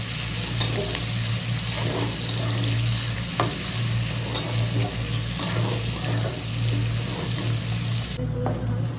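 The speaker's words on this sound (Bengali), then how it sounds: "তো এই যে আমার পেঁয়াজটা লাল লাল করে ভাজা হয়ে গেছে।" Chopped onions fry with whole cinnamon, cloves and cardamom in a pan, a continuous close sizzle with occasional stirring clicks and scrapes and a low steady hum, no talking.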